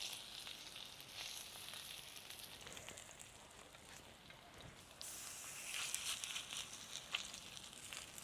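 Soft, continuous sizzling of masala-coated katla fish frying on a griddle over a wood-fired stove, quiet and even, with occasional light crackles.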